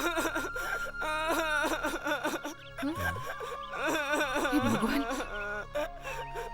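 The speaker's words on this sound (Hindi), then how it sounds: "लगता है कोई बच्चा रो रहा है" A child cries in a wailing, rising and falling voice at a pilgrims' rest house, with adults speaking over and around the sobbing in a dramatized scene.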